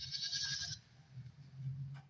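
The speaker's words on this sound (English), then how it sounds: "Is that sheep in the background or is that a sound effect? It's sheep." Sheep bleat in the background near a backyard, one strong cry at the start followed by softer, lower bleats, moderately faint with no talk.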